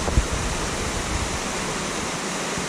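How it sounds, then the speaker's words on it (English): Waterfall number three at Raven Cliff Falls pours in a steady, broad rushing roar from a distance, with no voices over it. "Alright, we're at waterfall number 3."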